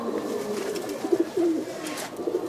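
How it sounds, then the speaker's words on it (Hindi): A caged pigeon coos softly in a few low, rolling murmurs, close but quiet, with a faint background hum and no talking. "ये देखें, ये कबूतर है"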